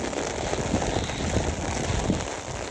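Heavy monsoon-style rain pouring down, a close, dense patter of drops with small irregular splashes, constant and loud across the whole short stretch.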